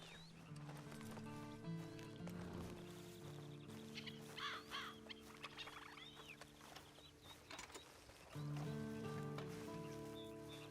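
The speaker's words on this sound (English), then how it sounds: "Then you better get on this horse." Horse hooves clip-clop in the Red Dead Redemption 2 video game, an uneven clatter of steps with a whinny, set against game music and ambient sounds.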